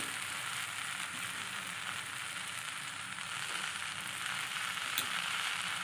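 Diced potato and carrot frying in a pan as they are stirred, making a steady, dense sizzle that holds at an even level from start to end, with faint scraping and no voices.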